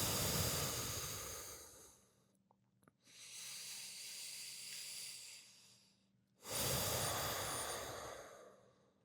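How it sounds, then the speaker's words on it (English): Breathing during a yoga session for lower back pain: long, hissing breaths close to the microphone, one lasting about two seconds, then a quieter stretch of breath, and a strong final exhale after a short pause. No one speaks. "as you exhale, allow your spine to round down softly"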